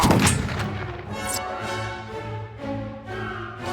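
Video game gunfire in Pillars of Eternity comes as a series of booming, heavy shots with ringing tails. Several blasts overlap across a few seconds, loud and close, and no speech is heard over them.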